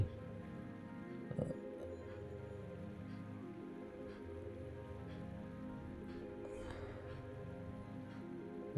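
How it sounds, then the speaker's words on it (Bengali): Light drizzle falling outdoors near a drain where people are fishing with a mosquito net, a soft, steady patter that stays faint and even throughout. "এখনো কিন্তু আমি যখন ভিডিও করছি তখনও কিন্তু বৃষ্টি হচ্ছে গুড়ি গুড়ি।"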